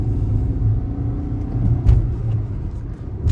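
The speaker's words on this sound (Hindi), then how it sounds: "अब यहाँ पे हम खड़ी करते हैं गाड़ी एक बार फिर से और स्टार्ट करेंगे फर्स्ट गियर से" A Kia Sonet HTK car accelerates from standstill, its engine a steady, close low rumble that swells slightly partway through without any clear revving peaks.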